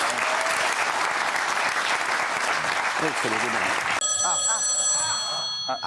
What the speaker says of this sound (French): merci Michel Sardou, qu'on peut applaudir